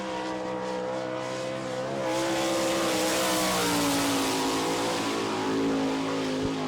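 A sprint car with a J&J chassis races through turn 2 at Barberville, Florida, engine whine rising and sliding in pitch as it swells louder, alongside other cars' droning motors.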